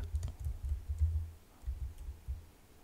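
Someone types on a computer keyboard, a quick run of soft, close key taps in short bursts with brief pauses between them.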